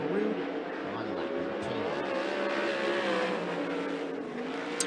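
A 360 sprint car runs hot laps at Skagit Speedway, its engine a sustained whining drone with shifting pitch as it drives deep into a corner, heard beneath a track announcer talking.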